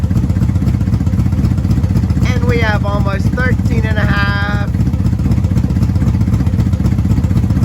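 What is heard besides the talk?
motorcycle engine idling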